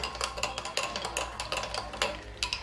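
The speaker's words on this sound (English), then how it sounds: "just give it a quick little mix here" A spoon quickly stirs a yeast and sugar mixture in a bowl, giving a run of light, rapid clinks and scrapes in an irregular rhythm, close and fairly soft, with no one speaking.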